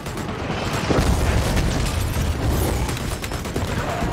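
A rocket explodes in the shooter game Dirty Bomb, a loud booming blast with crackling bursts and debris noise rolling on for several seconds.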